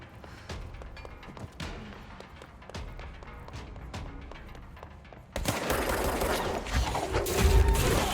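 Gunfire in the action game Control, a string of sharp shots and short bursts at steady loudness, building into a denser, louder roar of weapon noise toward the end.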